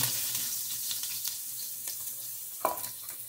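Onions sizzle in a pan on the stove, a steady crackling fry with a few sharper clinks and stirring scrapes.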